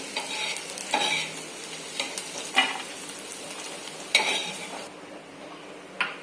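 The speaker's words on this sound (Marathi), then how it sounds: "त्याच्यामध्येच मी 1 वाटी शेवया घेतल्यात, ते नुसत्या भाजून घेणार आहोत" Vermicelli roasting in leftover ghee in a pan for sheer khurma: a soft, low sizzle under intermittent scraping and tapping of a spoon against the pan, with a few sharper metallic clinks.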